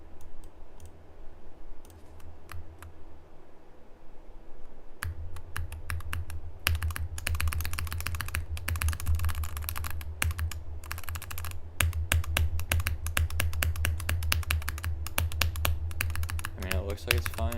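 Rapid clicking keystrokes from a computer keyboard, a dense, uneven stream of taps that starts sparse and then runs steadily over low game music.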